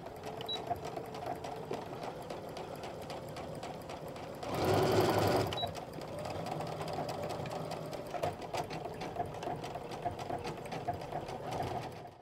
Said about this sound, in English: Here I'm just chain stitching this to make it go a little faster.